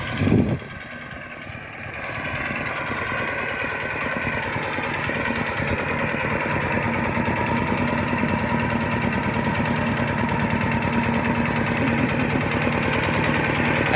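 A Kubota engine fitted to a walk-behind tractor converted to a ride-on rig runs at a steady, loud idle with a constant rumbling throb, alone throughout after a brief knock at the start.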